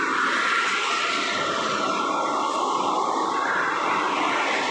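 A Jetbus 3+ tourist bus rolls along a toll road, its broad, steady roar of engine and tyres holding fairly close and loud throughout.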